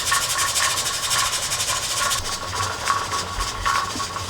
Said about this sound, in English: You can see that the weight is rocking rhythmically.